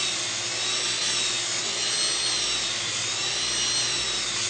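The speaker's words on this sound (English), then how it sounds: "Does the grinder work well for grinding the flashing cultured marble with 24 grit?" An angle grinder with a 24 grit abrasive whines continuously and loudly as it grinds the flashing off cultured marble, a steady high-pitched drone with no pauses or speech.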